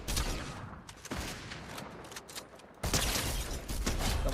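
Dense, sustained gunfire in a multiplayer shooter video game, loud and continuous with a short dip before a renewed heavy burst, no talking over it.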